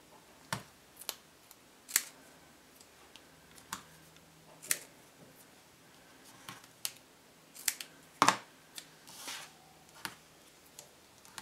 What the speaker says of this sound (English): I'm going to grab some foam tape and my scissors. I'm going to cut just a chunk of that off.